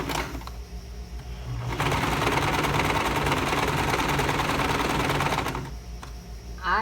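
A sewing machine runs a loose basting seam on women's trousers, its fast steady mechanical whir and needle clatter starting after a quiet moment and stopping cleanly before the end.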